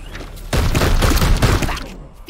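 Weapon fire in the tactical game Warhammer 40k: Chaos Gate - Daemonhunters: a sudden loud, dense burst of shots and blasts that kicks in after a half-second, rolls on for over a second, then tails off.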